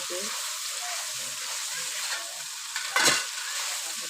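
Spice paste for a raw jackfruit curry frying in oil while being stirred, a steady soft sizzle with a sudden louder scrape and spatter near the end.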